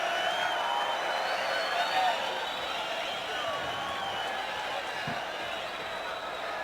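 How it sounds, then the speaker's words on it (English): Arena crowd noise at the 1996 UFC 8 event rises into a broad, steady roar of cheering and chatter, loud and continuous, with a brief thud partway through. "And the crowd getting into it."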